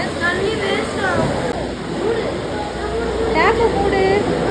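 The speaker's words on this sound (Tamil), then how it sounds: "டேப்பை மூடிட்டு போங்க, தண்ணியை மட்டும் குடிக்கிறீங்க. தண்ணி வேஸ்ட் ஆகும்." Water runs steadily from a public drinking tap at the Sholingur Sri Yoga Narasimha temple, a continuous splashing gush heard up close beneath loud voices of people talking nearby.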